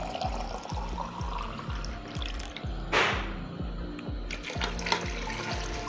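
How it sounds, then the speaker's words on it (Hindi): Water is poured from glasses into a pot of mutton, a steady liquid splash with a louder gush partway through, heard faintly over a rhythmic low thumping background. "तो मैं ये कम से कम 6 गिलास इसमें पानी डाल दूँगी"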